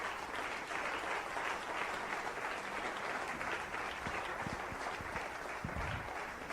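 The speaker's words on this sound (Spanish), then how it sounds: "Darle un aplauso a Cristo, que Él se lo merece." A church congregation applauding together, a dense and steady wash of many hands clapping that holds evenly throughout at moderate loudness.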